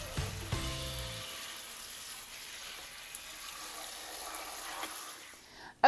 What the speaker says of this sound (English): just running them under some cold water